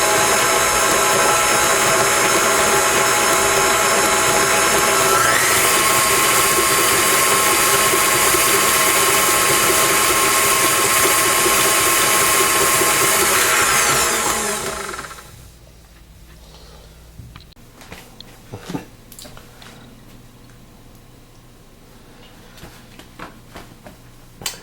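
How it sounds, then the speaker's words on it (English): Dry ingredients for homemade Chips Ahoy-style mini cookies being mixed by a loud, steady whirring mixer that runs continuously for about 15 seconds, then stops abruptly, leaving faint scattered clinks and taps. "And now just mix up all the dry ingredients together."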